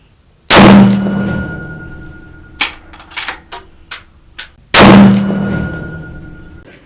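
Rifle fired at a long-range target, with a downrange camera beside the target: two loud, sharp shots about four seconds apart, each ringing out, with several quieter clanks and clicks between them.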